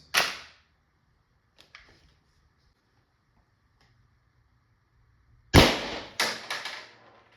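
An LL4D Pistelle X68 carbine with a stainless steel rifled barrel from Taiwan firing 7.3-gram aluminum balls: one sharp crack, a faint tick, then a cluster of three or four quick loud shots near the end, otherwise quiet.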